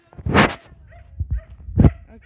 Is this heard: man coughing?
no